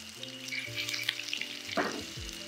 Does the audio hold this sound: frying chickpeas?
yes